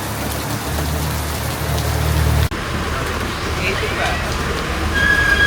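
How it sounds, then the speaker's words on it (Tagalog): Heavy rain pours down outside a pet supply shop, a steady broadband wash that stays loud throughout, with a brief low hum early on and faint voices mixed in. "Takas ng ulan. Hindi kami makalabas."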